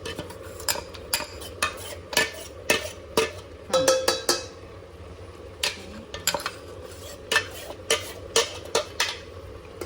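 A spoon stirs and mixes khichdi with ground curry leaves in a metal pot, producing repeated sharp clinks and scrapes in an uneven rhythm over a quiet background, close up and with no talking.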